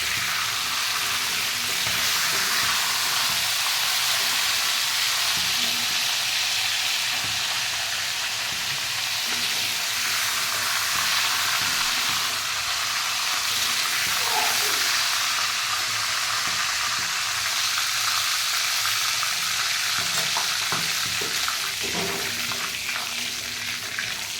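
Chicken meat frying in oil in a pan as its cooking water dries off, a steady close sizzle and crackle with occasional stirring scrapes throughout.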